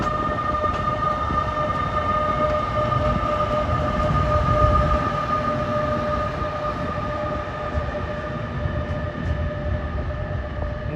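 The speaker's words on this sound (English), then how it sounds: "that's a Jersey Avenue to New York train pushed by ALP 46, 46, 26" A Jersey Avenue to New York commuter train pushed by an ALP-46 electric locomotive passes at Rahway, a steady loud rumble and rolling roar with sustained tonal hums, close by and without talk.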